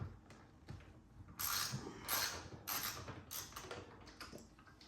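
Bolts on a 2003-2006 Chevy tow mirror are broken loose with a wrench, producing a few sharp creaking, ratcheting bursts with short rustling pauses between them, close up and with no one talking.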